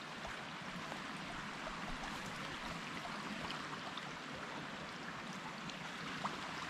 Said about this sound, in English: there's that creek that we crossed